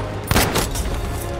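A burst of automatic gunfire in the World War II shooter game Battlefield 5, with several close, loud, rapid shots that run into each other over a dense rumbling battle background.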